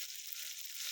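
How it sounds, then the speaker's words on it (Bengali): Onions and garlic paste sizzle in hot oil in a wok, a dense, continuous high hiss filling the short moment without any talk. "এই যে আমি কড়াইতে তেল দিয়ে দিছি, দিয়ে দিব পেঁয়াজ"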